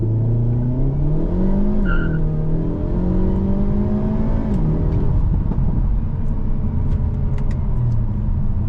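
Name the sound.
2025 Hyundai Elantra N launching with launch control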